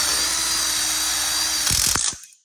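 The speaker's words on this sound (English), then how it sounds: "put a self-tapping screw in" A power drill drives a self-tapping screw into a frame, a steady close whine that ends with a couple of sharp clicks and a quick spin-down.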